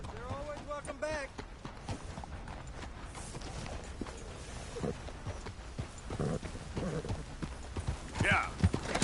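Horse hooves clip-clop in Red Dead Redemption 2, a steady trotting rhythm at moderate distance under a voice and other game sounds.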